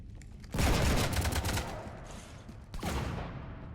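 Gunfire aboard a ship in Mass Effect Legendary Edition, a burst of rapid shots followed by a short pause and a second volley, fairly close and fading into echoing rumble.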